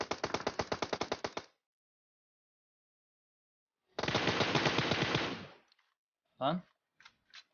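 Automatic gunfire in the game PUBG Mobile on the Livik map: a rapid burst of shots, a long pause, a second sustained burst, then a few short scattered sounds.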